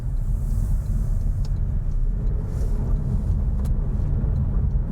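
Steady low rumble of a Toyota Aygo X small hatchback heading into a roundabout, heard from inside the cabin as continuous road and engine noise with a couple of faint clicks, no voices.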